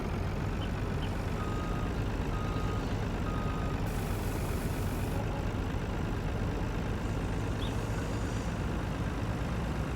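A truck engine drones steadily and close in Farming Simulator 19 during unloading, with faint, evenly spaced reversing beeps heard early on beneath the constant rumble.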